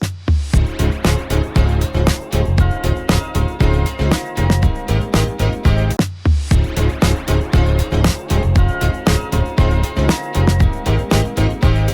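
A full, loud music mix without a mastering compressor, with punchy drums and bass driving a steady beat alongside dense instruments, playing continuously without vocals.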